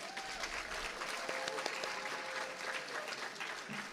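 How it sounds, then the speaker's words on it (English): Moderate applause from an audience at a university event honoring a Polynesian cultural club, steady clapping throughout at a modest distance, with a faint whistle or tonal cheer briefly rising above it. "So a round of applause for the Fresno Polynesian Club."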